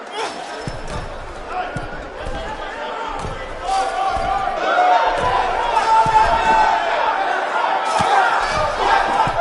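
A roaring arena crowd in a WWE wrestling video game cage match set in Austin, Texas, cheers and chants at a sustained loud level, punctuated by sharp thuds and slams, with voices shouting through the din.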